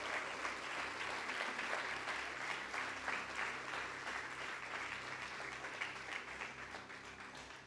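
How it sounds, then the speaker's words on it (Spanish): A church congregation breaks into sustained applause after a sermon passage. Dense, steady clapping from a crowd in a reverberant room lasts the whole stretch and fades slightly at the end. "Dale un aplauso a su palabra."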